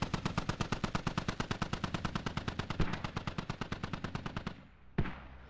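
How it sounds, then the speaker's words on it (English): DShK heavy machine gun fire in the game Squad: a long, steady burst of rapid, evenly spaced loud shots, ending with a single heavier crack after a pause. "those Dishkas firing is helping a lot"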